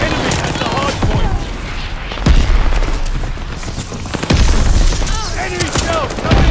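Mortar shelling and gunfire in the video game Call of Duty Vanguard: dense loud volleys of shots and booming impacts roll on without a break, with game voice callouts over the battle.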